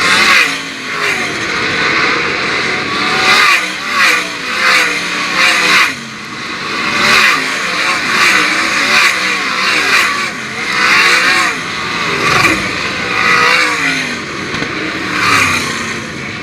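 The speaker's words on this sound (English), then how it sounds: "The car makes some noise for Craig Mintz." 410 sprint cars race at Attica Raceway Park, several loud engines roaring and revving continuously with rising and falling pitches as cars pass, all under steady crowd and track noise.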